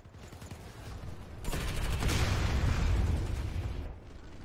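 Sustained volley of gunfire and impacts against turrets in the game Planetside 2, building from a steady crackle into a denser, louder barrage midway before easing off, with no one talking.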